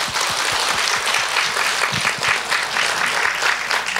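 Lecture-hall audience clapping for a guest who came from Latin America, a loud, dense and steady round of applause filling the whole stretch.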